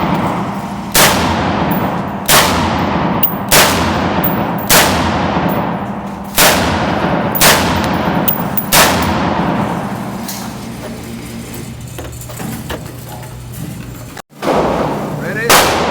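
A Ruger Mini 14 .223 rifle fires about eight loud, sharp shots in steady succession during a test for a stovepipe jam. Each report rings out with a metallic decay before the firing stops and things fall quiet.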